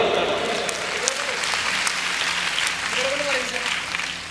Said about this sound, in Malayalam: ഒരു നല്ല കൈയടി കൊടുക്കാം കേട്ടോ